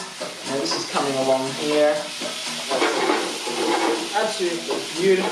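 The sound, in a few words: chicken sizzling in a pan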